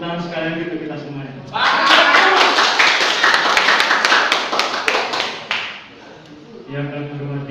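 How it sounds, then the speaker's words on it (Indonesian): At a university community-service presentation, a seated audience breaks into loud, dense clapping that runs for about four seconds and then fades out, with a voice speaking into a microphone before and after the applause. "Tepuk tangan sekalian untuk kita semuanya."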